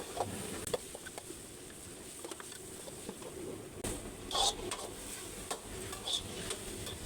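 Snacks tipped into a hot pan and stirred, giving a steady sizzle with scraping and light clinks of a utensil against the pan, close and moderately loud.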